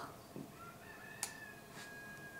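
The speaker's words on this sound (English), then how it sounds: "He's cock-a-doodle-dooing." A rooster crows outside, a faint, distant drawn-out call heard indoors over quiet room noise, with a small click partway through.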